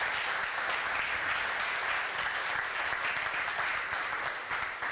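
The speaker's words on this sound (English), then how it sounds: "let's give a round of applause for our readers" An audience at a public reading applauds the readers, a steady wash of many hands clapping at moderate distance, sustained for the whole stretch without speech.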